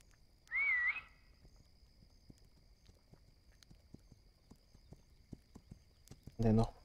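Light, evenly spaced video game horse hoofbeats tap along at a walking pace in This Land Is My Land, with a short tonal chime near the start and a louder burst at the end.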